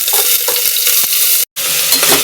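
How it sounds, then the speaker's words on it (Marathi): Curry leaves, onion and tomato crackle and sizzle loudly in hot oil in a kitchen pan, with a dense steady hiss and soft stirring knocks, broken by a split-second gap. "कढीपत्ता घालत आहे, त्यासोबत कांदा टोमॅटो घालणार आहे"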